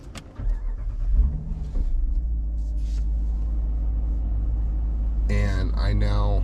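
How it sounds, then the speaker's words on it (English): A 2022 Dodge Durango R/T starts up with a short burst, then settles into a steady low idle rumble that carries on throughout, while a voice talks over it. "when I turn the car on"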